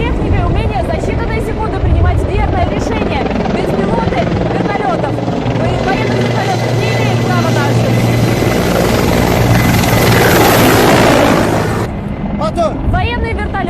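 An Azerbaijani military fighter helicopter flies close and loud, its thudding rotor chop dense and continuous with roaring turbine noise, cutting off abruptly near the end.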